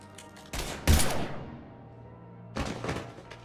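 Bursts of gunfire in Mass Effect 3, a loud volley of shots with a sharp thump, then a quieter stretch before a second burst of firing near the end.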